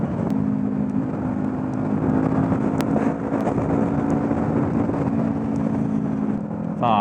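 A Kawasaki Ninja 400 motorcycle is ridden at a steady cruise, its engine drone holding even for the whole stretch under heavy wind rumble, with a brief higher whine near the end.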